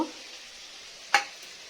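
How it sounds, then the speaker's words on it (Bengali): Potatoes fry in a pan for aloo dum, a steady faint sizzle running throughout, broken once by a single sharp clink or stir partway through. "এই যে আলুটা ভাজছি এখন"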